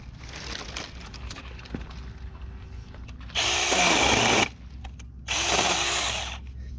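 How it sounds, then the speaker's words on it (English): A Saker mini chainsaw runs in two loud bursts of high buzzing whine, each about a second long with a short pause between, after a quieter stretch of low handling noise. "This little chainsaw is amazing."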